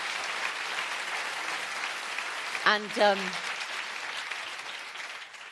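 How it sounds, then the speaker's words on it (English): Audience applause fills a panel debate hall in Geneva as the candidates for UN Secretary-General are welcomed, a steady wash of clapping running throughout, with a brief voice breaking through near the middle. "Give them a round of applause."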